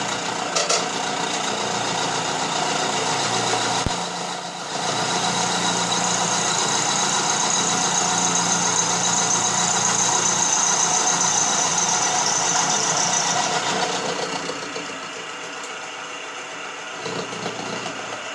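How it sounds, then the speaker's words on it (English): A small milling machine cuts metal with a half-inch cutter under hand feed, taking sixty-thousandths per pass, giving a loud, continuous motor drone with a high-pitched cutting whine throughout. "This is the little mill I talked about, and so with this 1/2-inch cutter, just feeding by hand, I'm taking off 60 thousandths each pass."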